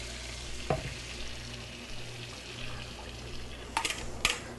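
Fifteen beaten eggs go into a large oiled pan for a zucchini and onion frittata, giving a soft, low sizzle with a couple of faint clinks and small bursts of splatter.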